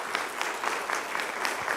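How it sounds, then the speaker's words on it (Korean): Audience applause at a Friday church worship service welcomes a missionary to Cuba onto the stage, a steady even patter of many hands clapping at moderate loudness with small rhythmic swells, no voices over it. "여러분 기쁨으로 환영하는 마음으로 박수로 우리 선교사님 맞이하겠습니다"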